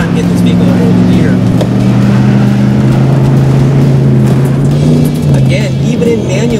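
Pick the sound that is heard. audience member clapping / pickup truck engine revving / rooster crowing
pickup truck engine revving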